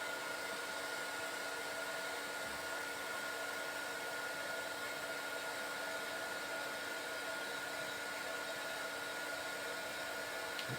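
Constant blowing hum of a heat embossing tool melting embossing powder on a watercolour butterfly card, steady and unbroken throughout with no talk.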